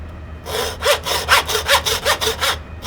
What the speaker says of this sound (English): I'm gonna take my saw, cut through this guy.